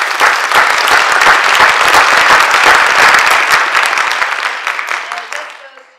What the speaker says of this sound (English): let's give both Robert and Gary a round of applause